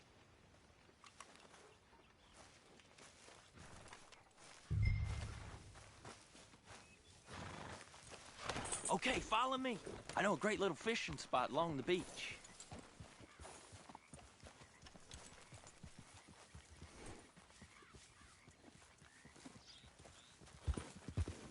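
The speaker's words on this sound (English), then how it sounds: "Grab your horse and let's go." Hooves clip-clop at a steady walking pace, with a horse snorting and whinnying briefly, under a man's spoken lines.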